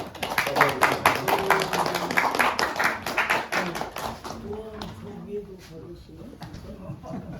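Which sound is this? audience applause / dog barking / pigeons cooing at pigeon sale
audience applause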